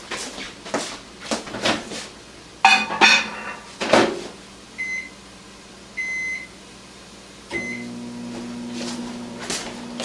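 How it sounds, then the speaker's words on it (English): Clattering of a dish being set down and a door shutting, then a few beeps as buttons are pressed before a microwave starts humming steadily. "put it on a plate, put it in the microwave, and melt this bad boy down"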